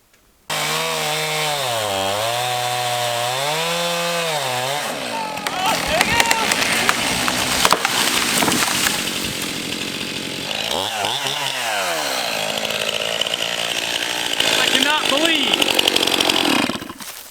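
A chainsaw with a badly worn bar, missing teeth, cuts into wood outdoors, its engine revving up and down in steady waves before grinding on through the cut, loud and close, while a voice talks over it.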